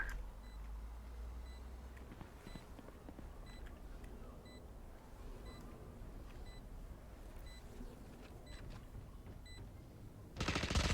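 The planted spike in the Valorant ranked match beeps in a steady, evenly spaced series over low game ambience, with a sudden louder burst of noise at the very end.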